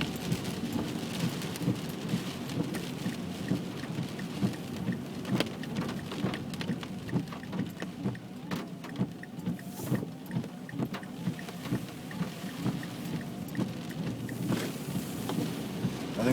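Hurricane Sandy wind and rain heard from inside a car driving through a storm, a constant dense hiss of rain and gusts against the vehicle with a low rumbling undertone, no speech.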